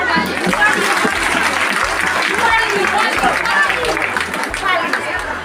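Crowd applause at a meeting in Haldia, Purba Medinipur, honouring a woman: continuous dense clapping from a gathered audience, loud and sustained, with some chatter mixed in.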